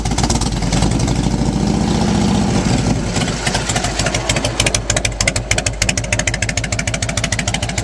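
A 1998 Harley-Davidson Heritage Softail Springer motorcycle engine idling while still a little cold, a loud, steady low rumble with uneven, lopey pulses that become more distinct toward the end.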